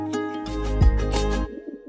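A pigeon, the same bird that had been shot, coos softly over a steady tonal background, its low, rounded calls stretching across a couple of seconds with no talking.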